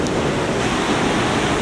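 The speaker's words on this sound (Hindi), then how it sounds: "ये चश्मे का पानी बह रहा है और ये बहुत दूर से चलता हुआ आकर आखिर यहाँ पे गिरता है" Spring water flowing and falling in Kumrat Valley, Pakistan, a loud, steady rushing roar close by, continuous without voices.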